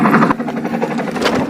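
A toy sound bar plays a helicopter sound effect for a homemade toy helicopter, a loud close electronic rotor chop with a steady whirring pulse, heard alone in a short burst.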